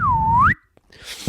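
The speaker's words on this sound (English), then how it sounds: "Slide whistle." A slide whistle plays a single swooping tone that dips and then rises sharply before cutting off, loud and close, followed by a brief quiet stretch and faint noise.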